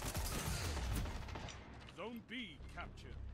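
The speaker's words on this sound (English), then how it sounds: "I'm using the raid scout rifle" A scout rifle fires in the Destiny 2 video game with a few sharp, quiet cracks early on, followed by softer mechanical and tonal game sounds.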